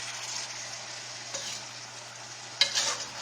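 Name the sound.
onions and meat frying while being stirred in a pan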